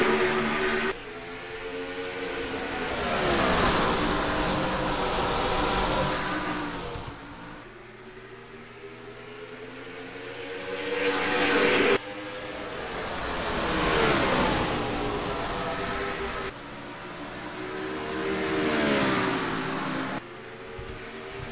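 Stock cars race under green flag at Richmond in a simulated racing series, engines rising and falling as they rev through laps, with repeated loud swells and downshifts as the field passes close.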